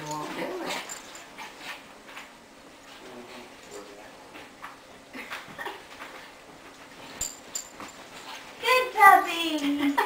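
A puppy whimpers and yips while playing indoors, with small scuffling sounds, under frequent talk from a child and adults nearby.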